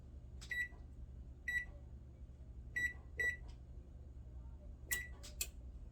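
Electronic beeps from an oven control panel being set to 300, a series of short tones spaced irregularly, ending with a quick cluster of higher beeps, against a low hum.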